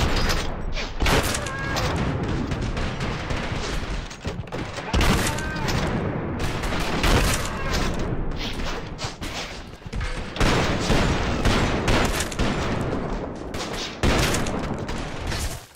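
Dense, loud gunfire in the video game Trepang2, shotgun blasts and rapid shots layered into a near-continuous barrage over about sixteen seconds with a few brief lulls.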